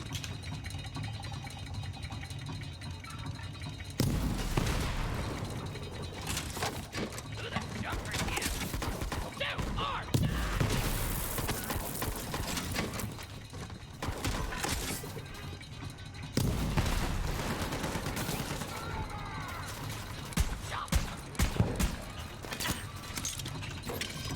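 Gunfire and explosions in Borderlands 3 come in dense, crackling bursts with booming impacts, separated by brief lulls, while a player talks over much of the action.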